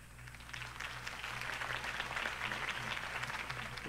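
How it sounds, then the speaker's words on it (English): Crowd applauding after a mayoral campaign speech, a sustained, even wash of clapping at moderate distance with no voices over it. "If only Mr. Wayne, my campaign's largest backer, could have heard that applause"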